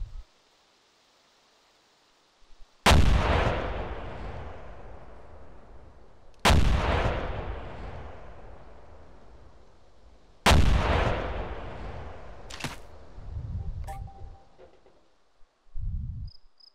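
Three heavy explosions strike a gas station in the video game ArmA 2, each a loud boom with a long rolling decay, followed by a few sharper cracks and smaller blasts, with no talking.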